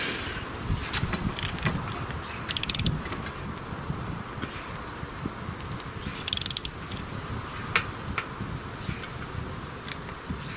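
A bicycle cassette being tightened onto the hub with a tool gives steady mechanical ratcheting and clicking, with two short, louder metallic bursts partway through, heard alone without talk.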